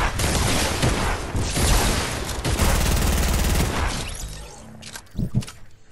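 Rapid combat shotgun blasts and explosive gunfire fill a Fortnite match, loud and dense almost continuously before thinning out into a few scattered bangs at the end, with no voices.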